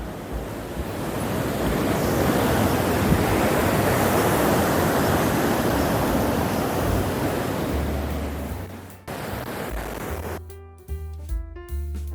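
The Prohodnaya mountain river, a tributary of the Bolshaya Almatinka in a Kazakhstan forest, roars steadily and loudly for several seconds, a dense broadband wash like a fast river, before music-like tones take over at the end.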